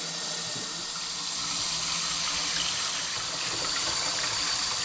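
Water gushes steadily from a tap into the tank of an ultrasonic cleaner, a constant close splashing fill with no pauses and no voices.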